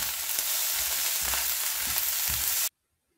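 Egg and rice frying together in a pan for fried rice, a loud continuous hiss and crackle close up, with a few stirring scrapes, cutting off abruptly before the end.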